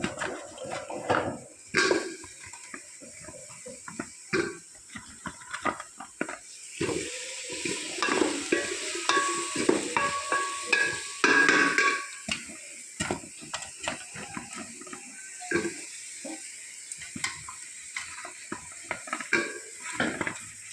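Drumstick pieces and carrot frying in a pan with sambar powder, stirred by hand, give irregular scraping and clattering strokes of a utensil against the pan over a soft sizzle.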